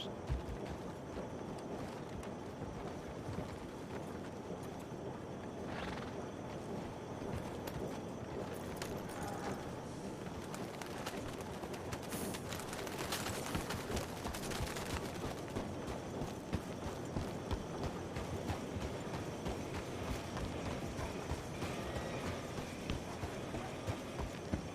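A called horse gallops in the Red Dead video game, its hoofbeats a steady, rapid clip-clop running the whole time at moderate volume over faint background game ambience.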